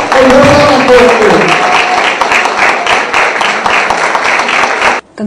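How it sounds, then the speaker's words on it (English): Audience clapping for participants at a children's idea studio event, a dense burst of hand claps from a crowd, fairly loud and close, with a voice calling out over the start before the applause carries on alone. "So give a round of applause for yourself and for you."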